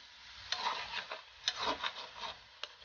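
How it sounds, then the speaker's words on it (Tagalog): Spatula scraping and stirring june bug larvae (abaling) stir-fried with seasoning, salt and pepper in a pan, in a few soft separate strokes with faint sizzling, close and quiet. "Halu-haluin lang natin ito para humalo yung lasa ng ating condiment."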